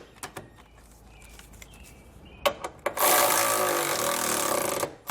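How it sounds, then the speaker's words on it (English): Trailer hitch hardware being snugged down on a 2019 Kia Niro with a Curt receiver: a few sharp clicks and taps, then about two seconds of loud, steady buzzing as a power tool runs, with no talk. "With all of our hardware in place and hand tight, now we can go ahead and snug it all down."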